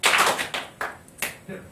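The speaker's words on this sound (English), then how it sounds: "clap your hands once if you've heard of the Iron Sheik" A wrestling chat show audience claps at once: a brief ragged burst of many hands, then a few scattered single sharp claps, fairly close and clear.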